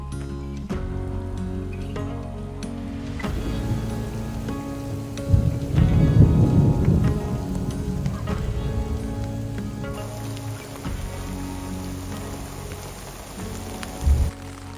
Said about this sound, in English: Storm's coming.